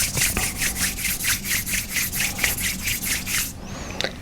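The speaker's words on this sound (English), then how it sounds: "Let's rub those palms together one last time today." Palms rub together in a yoga practice with a fast, even back-and-forth swish, about a dozen close strokes over three and a half seconds before they stop.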